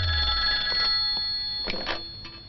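A telephone rings with a steady, continuous electronic bell tone in a scene from a dubbed Malayalam comedy action film, moderately loud, with faint thuds underneath.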